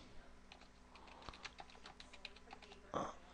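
Faint, quick keystrokes on a computer keyboard as a password is entered while installing Fedora, irregular soft clicks with a slightly louder rattle near the end.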